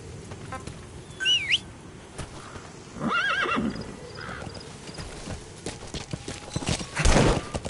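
A horse in the Metal Gear video game whinnies twice and clip-clops along, with birds chirping in the background and a louder burst of hoofbeats near the end.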